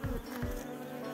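Close swarm of honeybees buzzing steadily around wax comb foundation at an apiary, a continuous droning hum with no voices.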